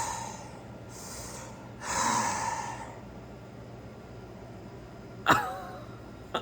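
Heavy breathing over a phone line: a few slow, raspy breaths come and go over a low hum, followed by a sharp click and a faint trailing tone near the end.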